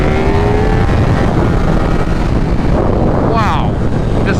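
A flashed 2024 KTM 1390 Super Duke R Evo with its exhaust valve wide open, roaring loud and steady under heavy wind rush while riding, with a rider talking briefly over it.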